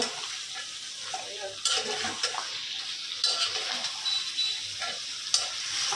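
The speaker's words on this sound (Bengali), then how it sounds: "মাংসটা কষাচ্ছি তো" Small pieces of beef stir-fry in a pot, a close, steady sizzle overlaid by repeated spatula scrapes and clanks against the pot at an irregular pace.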